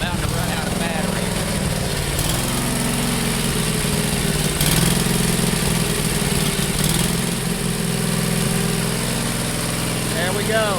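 A small engine idles after its carburetor has been cleaned, with a steady, slightly rough chugging hum that runs throughout, under a voice.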